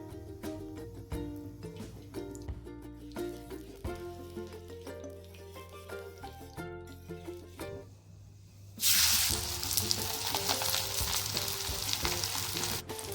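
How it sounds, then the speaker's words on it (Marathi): Bhakri roasting in ghee on a hot tawa: steady close sizzling and crackling, joined midway by a sudden louder, brighter hiss as the ghee meets the hot pan. "आपण ती तयार भाजून घेणार आहोत त्यासाठी तव्यावर आपण थोडंसं तूप घालणार आहे"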